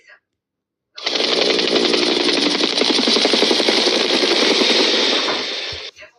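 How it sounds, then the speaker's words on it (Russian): A helicopter's rotor beats in a loud, rapid, steady chop for about five seconds, then cuts off abruptly. "Вертолет."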